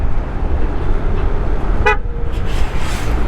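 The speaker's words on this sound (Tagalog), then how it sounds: "Minsan gumagana yung busina natin, minsan hindi." A single short honk from a Yamaha NMAX 155 scooter horn cuts through steady road and wind noise during a ride toward Quezon, brief and fairly close.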